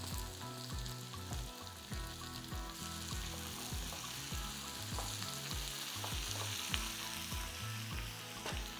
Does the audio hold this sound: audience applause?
no